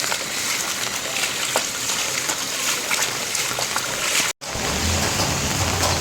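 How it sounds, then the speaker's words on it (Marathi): Heavy monsoon rain pours continuously at night in Nalasopara, Mumbai, a dense, even hiss of water falling and splashing nearby, briefly cut by a moment of silence before resuming. "11:15ला जो कंटिन्यू पडतो पाऊस, तुफान पाऊस"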